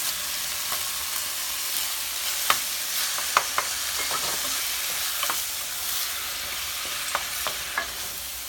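Tomatoes cook in a frying pan for a garbanzo bean curry, giving a steady broadband sizzle with scattered sharp clicks and scrapes of stirring throughout, with no talking.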